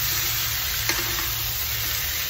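Ginger and garlic paste frying in a pan, a loud continuous close sizzle with faint stirring scrapes, no talking.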